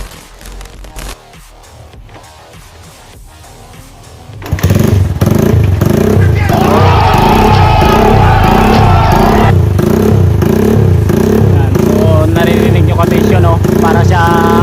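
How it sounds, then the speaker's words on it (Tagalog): A Rusi TC motorcycle engine fitted with a DIY idle rumble mod bursts in loud after a few quiet seconds, then holds a deep, lumpy idle with a steady loping pulse, close and dominant. "yung ginawa nating parang tunog V8 V6 na makina, yung kala mo dump truck yan"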